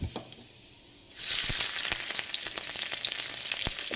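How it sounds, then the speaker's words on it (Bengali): Chopped garlic, then chili, drops into hot oil, bursting into a loud, close sizzle after a quiet moment and continuing as a steady crackling fry with sharp pops. "তেলটা গরম হয়ে গেছে প্রথমে এখানে রসুন কুচিটা দিয়ে দেবো তারপরে লঙ্কাটা দিয়ে দেবো"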